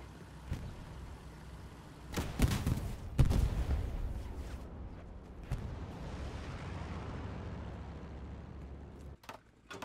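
Artillery fire in Hell Let Loose, heavy distant booms with a couple of sharp blasts and rumbling aftermath over a low battlefield drone, fairly faint overall.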